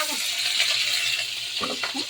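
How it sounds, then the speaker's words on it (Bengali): Radhuni spice tempering crackling in hot oil before fish is added: a continuous close sizzle with brief spattering pops near the end. "একটু রাঁধুনি ফোড়ন দিয়ে দিলাম"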